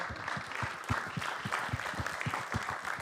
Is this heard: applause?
yes